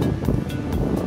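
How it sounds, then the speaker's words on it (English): Steady wind buffeting the microphone while cycling on a road, in a dense low roar, with a few brief gusty swells. "It's pretty windy"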